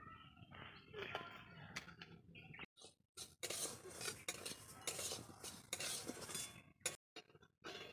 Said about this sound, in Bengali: এবার মুগ ডালটা ভেজে নিবো